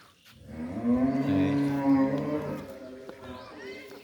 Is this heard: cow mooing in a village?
yes